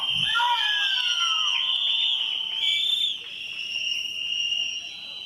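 Shrill, sustained whistling from a crowd at a political rally, steady and loud throughout, with some overlapping whistles rising and falling.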